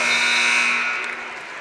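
A gym buzzer sounds at the end of the third quarter of a girls' high school basketball game, one sustained loud electronic blare that fades slightly toward its end, with no speech over it.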